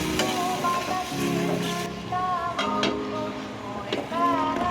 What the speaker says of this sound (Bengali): আমি কড়াইতে পরিমাণ মতো পানি ঢেলে দিলাম